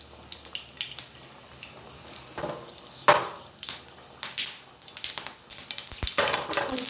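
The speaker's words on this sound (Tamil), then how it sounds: "இப்போ நம்ம கடுகு போட்டுக்கலாம். கடுகும் வெந்தயமும் சேர்ந்தே இருக்குது," Mustard seeds and fenugreek crackle in hot oil for an Indian gooseberry (amla) pickle, giving a steady run of small pops and spits that grow busier and louder toward the end.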